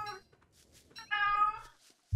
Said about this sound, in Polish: Kot.